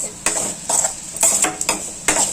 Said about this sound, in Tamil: அதை போட்டு நல்லா ஒரு ரவுண்டு வதக்கிக்கோங்க